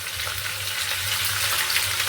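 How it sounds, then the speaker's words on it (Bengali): Potatoes fry in hot white oil in a pan, giving a steady, close sizzle with a low bubbling hum underneath and no voices. "তেল গরম হয়ে গেছে, এবার আমি আলুগুলো ভেজে নেব।"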